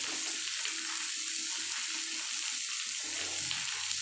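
Whole spices, coriander seed and fennel among them, fry in hot oil for a chicken curry, giving a steady, even hiss with a soft bubbling undertone and no voices.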